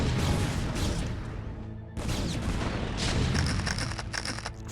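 Siege tanks firing in StarCraft: Brood War, heavy booming artillery blasts that overlap into a dense, continuous roar of explosions, loud throughout.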